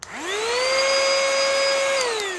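A portable mini car vacuum cleaner with blower starts up with a short click, its motor whine climbing quickly to a loud, steady high pitch, then beginning to wind down at the end, with no talking.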